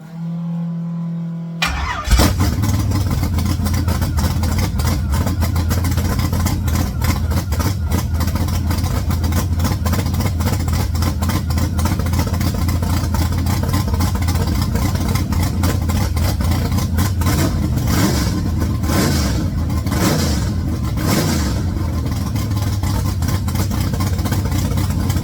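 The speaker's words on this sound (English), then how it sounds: "I fired up the car. She starts right up. Got the idle set" A car with a newly installed motor cranks and catches, then settles into a loud steady idle with a few blips of revving, close up and continuous for the rest of the clip.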